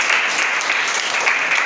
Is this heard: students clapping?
yes